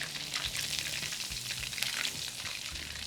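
Chicken pieces frying in hot oil for a spicy hot and numbing chicken dish, a steady crackling sizzle with occasional soft bumps and stirring, close and fairly quiet, no talk.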